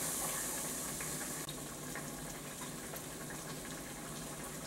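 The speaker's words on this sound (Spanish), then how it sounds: "Ahora le voy a poner un cuarto de taza de agua" Water is poured into a pot of hog meat cooking with wine, a steady close trickle and gush that stays constant throughout with no talking.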